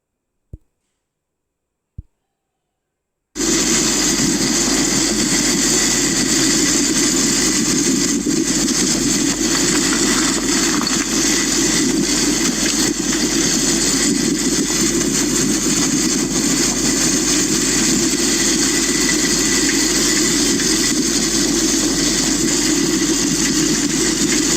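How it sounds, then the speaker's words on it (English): A car engine hums steadily while driving between hill forts in the Ajanta Satmala range, a loud, continuous drone heard alone after a couple of faint clicks and a short silence at the start. "Here we're driving between the various forts."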